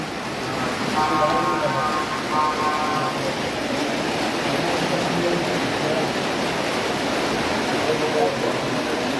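Heavy rain pours down in Comilla, a dense, unbroken roar with a brief faint voice early on.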